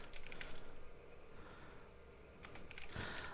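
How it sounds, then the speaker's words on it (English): Fingers tapping on a clicky computer keyboard, close-up bursts of crisp rapid keystrokes, pausing briefly in the middle before resuming. "I like listening to the typing, man."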